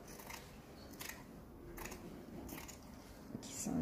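Scissors cut fabric during a draping lesson on a basic bodice with darts, making a few quiet, evenly spaced snips close at hand over a soft room background.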